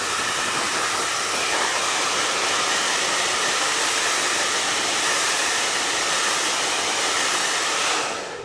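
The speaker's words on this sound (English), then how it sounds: "use the blow dryer." A blow dryer runs steadily for about eight seconds, drying the lace front of a toupee after alcohol has been sprayed on; the broadband airflow roar holds close and loud, then cuts off at the end.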